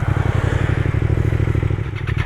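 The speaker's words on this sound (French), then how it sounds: "Oh le son de la Daytona, j'adore." A Triumph Daytona three-cylinder motorcycle engine runs steadily nearby, with a dense, pulsing low-end throb and faint mechanical clatter throughout, no voices over it.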